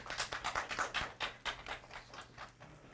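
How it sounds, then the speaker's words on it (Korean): Audience clapping at an award ceremony of a recycling festival, a fairly faint, steady patter of many hands lasting a few seconds, with no voices over it. "박수 부탁드리겠습니다."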